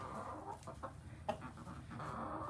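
Hens cluck softly in a coop, a few scattered low clucks and murmurs over quiet background rustling, faint and close with no talking.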